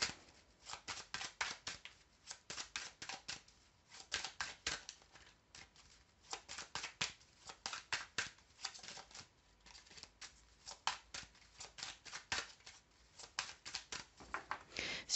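Tarot cards being shuffled by hand: a long run of quick, papery riffles and soft slaps in uneven bursts, close but quiet, continuing without pause.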